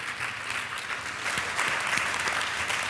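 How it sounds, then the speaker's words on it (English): Group applause during a talk, a continuous moderate patter of many hands clapping at a steady level for a few seconds. "I'm going to clap for that"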